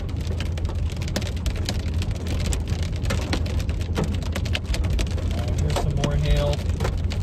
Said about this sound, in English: Getting some small hail at the moment.